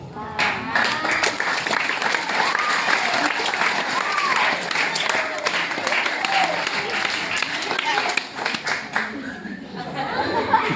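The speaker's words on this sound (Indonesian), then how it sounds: "kita beri tepuk" Audience clapping at a Maulid Nabi gathering, dense and sustained across the clip, with chatter and some laughter mixed in among the crowd.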